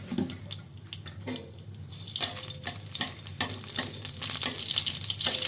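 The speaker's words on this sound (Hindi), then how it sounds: "कलौंजी जैसे ही थोड़ा सा हल्का फ्राई हो जाए उस टाइम पे मैं डाल दूंगी हरी मिर्च" Nigella seeds frying in hot oil in a home kitchen produce a close, crackling sizzle that grows busier and brighter, with a few clinks of a utensil and no talking.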